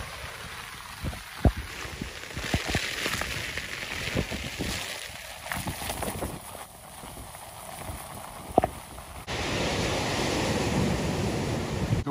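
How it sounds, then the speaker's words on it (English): Big winter sea swell rolls and breaks on a beach, a broad continuous wash of surf roaring up in surges, heard from shelter with wind noise and occasional knocks nearby. "Big swell."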